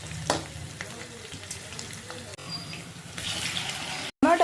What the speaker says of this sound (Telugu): ఇప్పుడు టమాటాలు వేసుకున్నాం